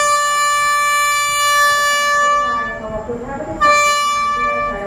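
A train leaving Ubon Ratchathani station in Thailand sounds its horn in a long, loud sustained blast that dips briefly and then resumes, with rail rumble underneath and a voice faintly audible.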